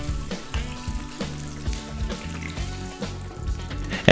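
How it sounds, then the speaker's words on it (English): Onion and garlic sauté in fat rendered from pork belly for Filipino humba, a continuous close sizzle with bursts of crackling and occasional stirring, no talk. "you are ready to saute the onion and garlic"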